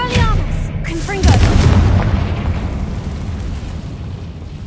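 A Confringo explosion spell goes off in the Hogwarts Legacy game, a sudden loud blast with a sharp attack and a rumbling tail that slowly fades, preceded by brief whooshing spell effects.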